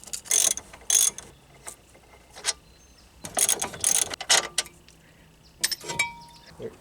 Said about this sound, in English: This is a 13/16 socket, and I got my breaker bar on here.